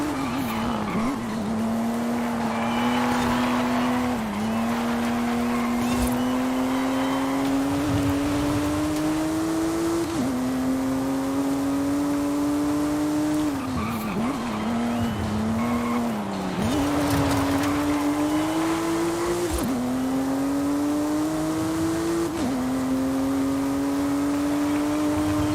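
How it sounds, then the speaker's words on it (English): A Porsche race car in a Forza racing game howls at high revs with tires squealing as it oversteers through corners, the engine note rising and dipping with gear changes and throttle lifts, loud and continuous. "Oh, that's so much oversteer."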